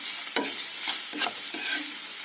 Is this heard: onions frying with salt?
yes